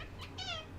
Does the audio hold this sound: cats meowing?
yes